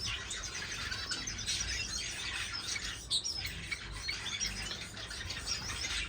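Firefinches in a breeding cage keep up a dense, continuous chatter of high chirps and tweets close by, with occasional squawks and brief wing flutters and no talking.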